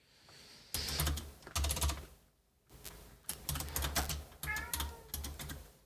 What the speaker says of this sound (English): if you heard the cat